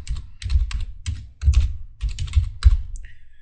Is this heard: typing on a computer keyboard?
yes